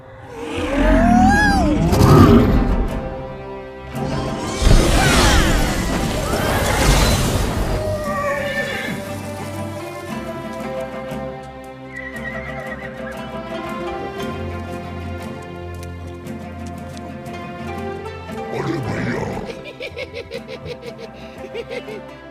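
A horse in a Hindi-dubbed Monkey King 2 movie gives a loud, shrill neigh near the start, followed by a second burst of commotion, then quieter music and dialogue carry on underneath.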